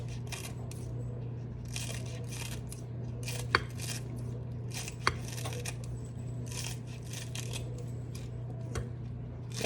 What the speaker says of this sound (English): I cut at an angle